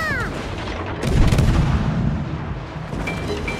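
Naval guns boom in a World of Warships clan battle: a loud close salvo with a heavy blast and rumbling tail, then further lighter shots and game effects.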